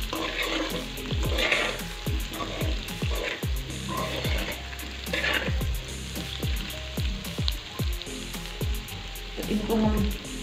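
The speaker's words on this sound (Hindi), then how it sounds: "आलूओं को और फ्राई कर लेंगे ताकि जो हमारे मसाले हैं अच्छे से भून जाएं" Potatoes frying with spices in a pan, crackling steadily up close, with frequent scraping knocks as they are stirred and faint voices in the background.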